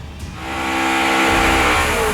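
A Chevy Camaro and the Purple Rain Chevy street race cars rev up, the engine roar rising steadily into a loud, sustained drone close by.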